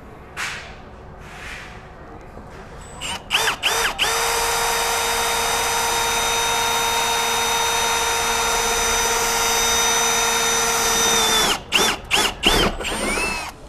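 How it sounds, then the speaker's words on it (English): A power drill with a 5/16 bit bores a bolt hole for a GX470 tire carrier, starting with a few short bursts, then holding a loud, steady whine for several seconds before ending in more stuttering pulses. "using a 5/16 drill bit, we're going to go ahead and drill it out"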